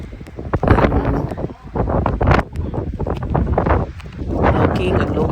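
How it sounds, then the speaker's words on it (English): Strong wind gusts outdoors around a house after a storm, buffeting the microphone in loud, uneven surges while a person talks over it. "the wind still so heavy."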